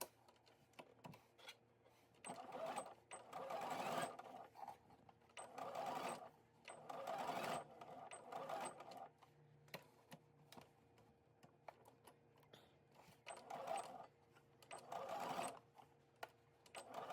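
A home sewing machine runs basting stitches along a 3/4 inch seam allowance on a pinafore, in several bursts of steady whirring separated by short pauses, with faint background noise between runs.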